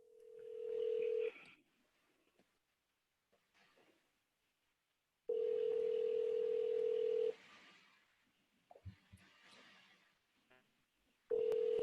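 A steady telephone dial tone sounds loud and alone in bursts on a live phone call that goes unanswered, with long quiet gaps and faint clicks and handling noise between the tones.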